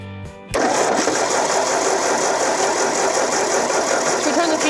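A Ford 8N tractor engine cranks briefly and then catches, settling into a loud, steady, close running rumble that holds to the end.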